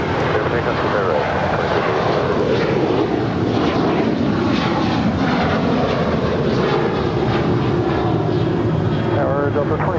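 An airliner takes off from runway 25 right at Los Angeles International Airport, a loud continuous jet roar that stays strong and steady throughout.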